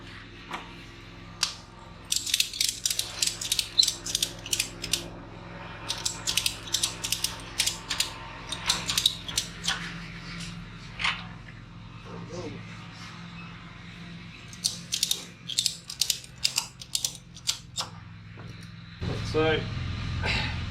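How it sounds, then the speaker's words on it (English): A ratchet strap is cranked tight during CV joint work on a Ford Ranger, giving repeated bursts of quick, close clicking pawl strokes with short pauses between them, and a low rumble underneath. "Twisting the strap."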